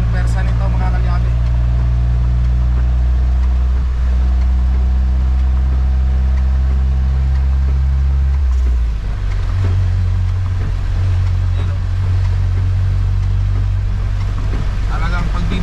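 A car engine running hard near at hand, a loud continuous low drone that shifts down in pitch partway through, with someone speaking over it.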